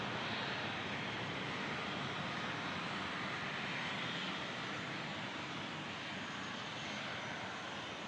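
A jet airliner lands on runway 24 left at Toronto Pearson, heard as a broad, steady, distant engine roar with no talk over it.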